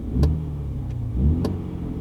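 A Mini Countryman JCW engine idles and blips twice in sport mode, giving short throaty four-cylinder revs from the exhaust, close and fairly loud.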